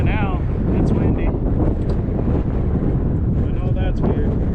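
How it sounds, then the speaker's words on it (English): Heavy wind buffets the microphone with a constant low roar throughout, and a voice talks faintly underneath. "if you haven't guessed by now, it's windy"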